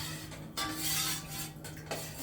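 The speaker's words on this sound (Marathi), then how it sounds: "हलवून घ्यायचं आहे थोडंसं." Curry being stirred in a metal cooking pot while making a Maratha-style black chicken rassa, with scraping and clinking of the spoon against the pot in repeated close strokes and no talk.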